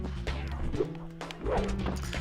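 Anubis dog enemies in Spyro: Year of the Dragon bark in a few short, harsh bursts, layered over busy game music and effects at moderate loudness.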